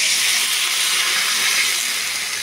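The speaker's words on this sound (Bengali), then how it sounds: "তারপরে এখানটা আমি দিয়ে দেবো জল" Water poured into a cooking pan on the stove, a loud, steady close hiss and rush lasting about two seconds with no voices.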